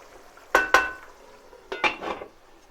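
A utensil scrapes and knocks against a cooking pot while stirring beef sauté, two pairs of clattering strokes with a quiet pause between, close and fairly crisp.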